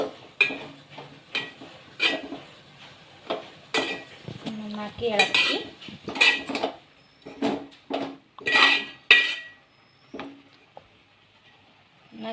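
Metal spoon clanks and scrapes in a pot as drumstick leaves with garlic and salt are stirred, repeated uneven strokes up close, with a brief spoken word.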